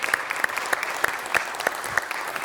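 Applause from a city council audience greeting the mayor-elect of Ensenada, Baja California: steady clapping with sharp individual claps repeating throughout, moderately loud and with no talk over it.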